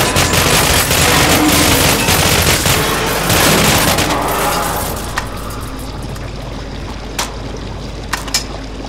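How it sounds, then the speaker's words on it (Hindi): Rapid bursts of gunfire from the video game Cryostasis crackle densely, then thin out into a few scattered single shots. "बहुत ही अल्ट्रा फास्ट है ये गन तो।"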